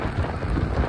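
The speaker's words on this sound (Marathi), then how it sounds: "पावसाचं वातावरण झालंय" Rain falling with low thunder rumbling beneath it in rainy weather along a road toward Beed, a steady close wash of sound with no voices.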